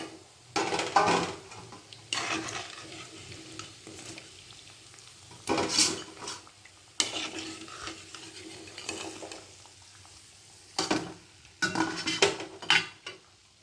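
Fried lentil vadas are lifted from an oily pan and moved onto a plate with a metal utensil, giving intermittent scraping clinks and clatters in short, close bursts with quiet gaps between them.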